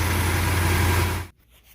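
A 1970 Dodge Charger's 413 engine with a 727 transmission idles a little high, a steady loud low rumble close by that cuts off abruptly near the end.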